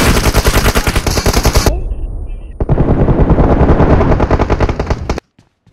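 Loud, rapid automatic gunfire from the mobile shooter PUBG Mobile rattles in dense bursts, pausing briefly before another long burst, then cutting off abruptly near the end.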